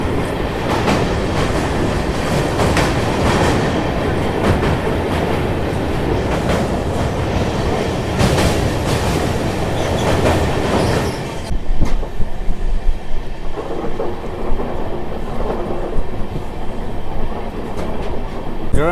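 Train rolling over a bridge across the Hooghly river on the Kolkata–Sairang express, a loud steady rumble with clickety-clack of wheels on rails, shifting to a thinner, more open rattle partway through.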